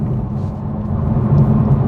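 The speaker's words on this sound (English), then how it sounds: "you can turn the sport exhaust on so you guys can hear it just a little bit" A stock manual Toyota Supra with its sport exhaust switched on cruises along a highway, giving a steady, fairly loud low rumble from inside the car with no talking.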